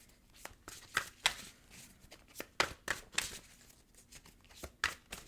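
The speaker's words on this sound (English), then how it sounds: "These cards are huge. I always have such a hard time shuffling them." Large tarot cards being shuffled by hand, a series of quick close papery riffles and flicks in irregular bursts, fairly quiet.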